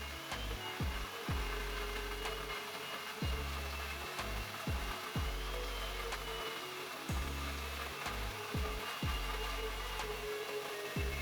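A saw rips a reclaimed wooden beam lengthwise into 3-inch-wide strips, a steady loud whine broken by regular rhythmic thumps and knocks, close and continuous with no talk.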